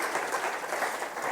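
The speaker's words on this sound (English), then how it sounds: "Let's give a round of applause to our brilliant panelists" Applause for panelists on stage at an engineering conference, a dense, steady wash of clapping from a large audience filling the whole short stretch.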